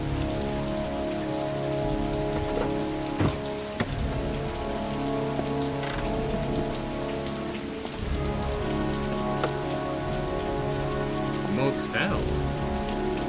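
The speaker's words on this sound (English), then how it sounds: "272 inches of rain." Steady, heavy rain falls on hard surfaces in a rain-soaked scene from the video game Heavy Rain, a dense hiss running throughout with a few brief knocks and clatters and a low drone beneath.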